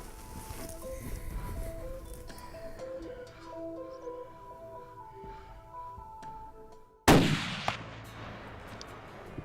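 A single loud rifle gunshot rings out during an antelope hunt on a Montana ranch, fired at a buck about 320 yards away, a sharp broadband crack followed by a short decaying echo after a stretch of quiet outdoor ambience.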